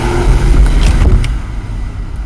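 A 2019 Hyundai Ioniq hybrid pulls away hard in sport mode, its loud, steady engine and road rumble building briefly and then easing off.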